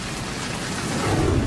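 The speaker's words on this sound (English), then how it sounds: "they dumped this massive hail right on the beach" Massive hail pours down on a beach in a dense, steady roar of impacts that swells slightly louder toward the end, with no voices.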